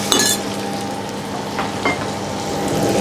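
Baby clams with evaporated milk in a Thai chili-paste stir fry, stirred in a pan: a steady sizzle with a few clinks of the utensil against metal, close and fairly loud, no voices.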